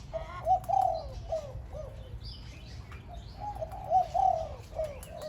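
A dove coos repeatedly in rhythmic phrases over quiet outdoor background noise, with a pause between two bursts of calling.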